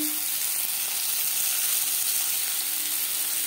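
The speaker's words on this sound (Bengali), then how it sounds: "2 চামচ সরষের তেল গরম করে নিয়েছি। এবার দিয়ে দেব আলু।" Potato pieces fry in hot mustard oil with a dense, even sizzle that holds steady and fairly loud from start to finish, with no voices.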